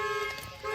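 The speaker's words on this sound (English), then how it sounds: "Was that you that just turned on the alarm?" A car alarm blares in a short burst, steady harmonic tones holding through the moment with a brief dip midway, loud and close with no talking over it.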